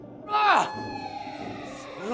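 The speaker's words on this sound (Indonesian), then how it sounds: "keburu ada suara sirene polisi yang menuju ke sana" A police siren wails, rising and falling once, then trails off and starts again, heard briefly and fairly close.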